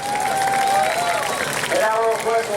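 Applause and cheering from a race crowd at New Smyrna Speedway for second-place driver Anthony Sergi, a steady clapping wash lasting the whole moment with an announcer talking over it.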